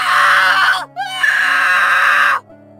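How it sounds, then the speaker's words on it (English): A boy screams for help in two long, loud, sustained cries close by, broken by a short gap, with nobody else heard. "The boy kept screaming for help"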